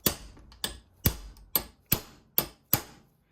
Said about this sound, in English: so this is just a roll pin punch